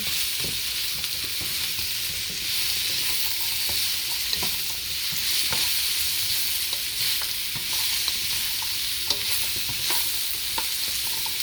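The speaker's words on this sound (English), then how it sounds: "I just want to coat them with the oil." Sweet potatoes are stirred and coated with oil in a very hot wok, giving a loud, continuous sizzling hiss broken by frequent scraping and clicking of a spoon, close and without talk.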